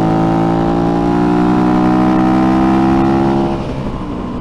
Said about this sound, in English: This bike is just coming on cam, and I want to get it on cam, but I can't.